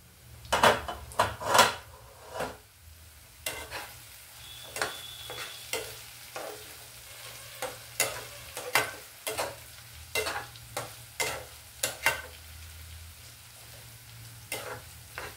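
Sliced raw banana and potato frying in a pan, a soft continuous sizzle broken by repeated scraping stirs and clacks of a spatula against the pan at an uneven rhythm, close and clear.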